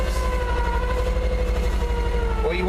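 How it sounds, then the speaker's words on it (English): A 1959 Chevy Viking 60 tow truck's siren wails loud and steady for the whole stretch, a sustained tone over a deep low drone from the truck. "siren works"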